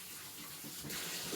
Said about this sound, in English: Drain the pasta.